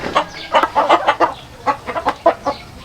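Chickens cluck in short, repeated bursts nearby, a busy chatter of several birds with brief pauses between calls.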